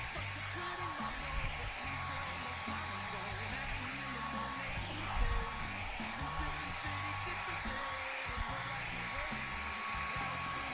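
A hair dryer blows steadily on wet paint on a canvas, a continuous loud whooshing roar that holds level throughout with only small fluctuations.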